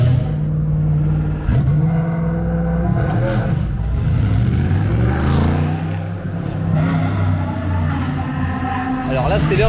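A Porsche Cup race car runs on the Paul Ricard circuit, its engine a loud, steady roar with rising and falling pitch as it passes, with a voice talking over it.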